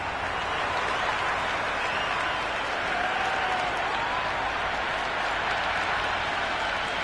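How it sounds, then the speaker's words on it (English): A cricket stadium crowd in the video game Cricket 26 applauds and cheers in a continuous, even roar of clapping and crowd noise, steady and fairly loud throughout with no pauses. "The crowd are loving every minute of this match."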